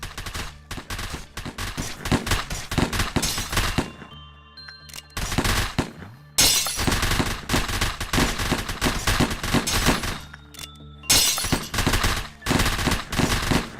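Rapid automatic gunfire from bullets in the video game Lobotomy Corporation, loud dense bursts of shots with brief gaps between volleys, no talking.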